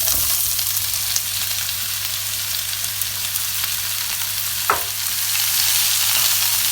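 Onions fry in a pan for a lamb tagine, giving a steady, close sizzling hiss throughout, with one brief scrape partway through.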